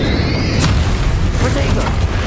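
A Bombarda blasting spell explodes in Hogwarts Legacy as a loud, deep boom with a rumbling tail, and a character's voice is heard over it.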